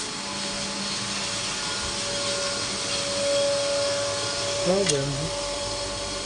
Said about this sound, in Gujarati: ઘંટી ચાલુ